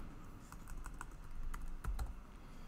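Code being typed on a computer keyboard, an irregular run of close, crisp key clicks with short pauses, no voice over it.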